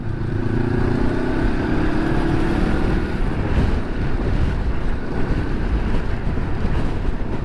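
Strong wind buffets a microphone on an open spot at Biga Bridge. The roar is loud, steady and low, with a faint engine-like hum underneath in the first seconds.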